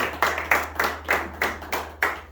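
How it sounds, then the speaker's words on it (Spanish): A congregation at a church service claps briefly, about seven distinct evenly spaced claps in a slow steady rhythm, close and fairly loud with no talk over them. "Denle un fuerte aplauso"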